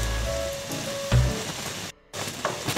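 Chopped green onions fry in hot oil with pickle spice for a tomato chutney, giving a steady close sizzle and crackle that pauses briefly near the end, with no talking.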